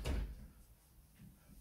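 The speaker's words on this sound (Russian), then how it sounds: "тогда я дверь закрою, чтобы шумов не было" A room door is shut with a single short thud at the start, followed by quiet room tone and a faint rustle.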